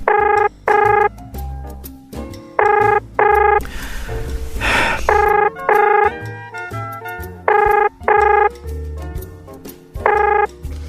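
Telephone keypad tones sound in short paired beeps, repeated in a regular rhythm as a number is dialed for a call, clear and close, with a brief rustling noise in the middle.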